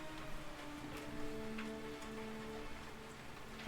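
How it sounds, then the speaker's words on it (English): Steady rain falls outside, heard through an open window, a constant soft hiss of drops on surfaces that continues without pause. "You can hear the rain?"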